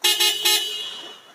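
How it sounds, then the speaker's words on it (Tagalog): Horn of a 2022 Suzuki vehicle blasting loudly and close up in three quick honks, the last held slightly longer before trailing off. "pagdating naman po sa busina, kita nyo naman po, sobrang lakas na natin"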